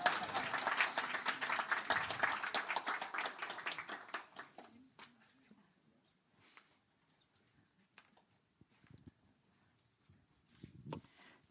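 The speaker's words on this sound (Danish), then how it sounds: "I må gerne klappe hende i gang." Audience applause at a presentation on AI and accessibility, dense clapping from many hands for about four seconds, then fading into scattered claps and quiet room noise.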